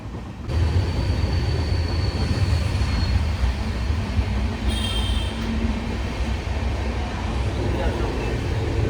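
Steady rumble and clatter of a train rolling along the rails, continuous and fairly loud, with a faint high squeal partway through.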